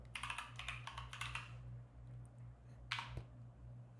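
A password is typed on a computer keyboard at a desk, with a quick run of light key clicks for about a second and a half, a pause, then one firmer keystroke like Enter, over a steady low hum.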